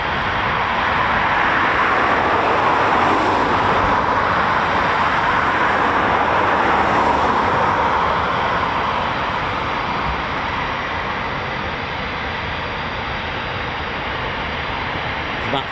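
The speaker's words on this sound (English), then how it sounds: "There's about 4 Typhoons taxiing right now." Several Eurofighter Typhoon FGR4 jets taxiing at an RAF station, giving a loud, continuous broadband roar with a steady turbine whine that holds throughout and eases slightly near the end.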